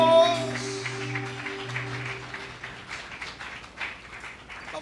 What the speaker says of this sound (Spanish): ¿Cuántos pueden darle una ofrenda de palmas al Señor?